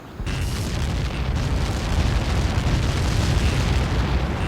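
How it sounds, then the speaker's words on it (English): A huge explosion erupts as Helios projectiles strike in Ace Combat 7: Skies Unknown, a sudden loud boom followed by a sustained deep rumbling roar that fills the whole stretch. "How many got caught in that explosion?"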